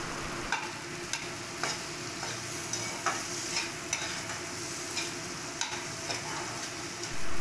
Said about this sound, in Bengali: আলুটাকে আমি ভালোভাবে ভেঙে ভেঙে নেড়ে ভাজা ভাজা করে নেব।